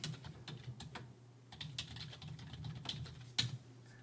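Someone types on a computer keyboard close by, producing a quick uneven run of soft key clicks with one sharper tap near the end, heard alone without talking.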